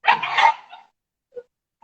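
A dog gives a sharp, close bark followed by a softer yelp as a house door is opened, then near silence with a faint small sound afterward.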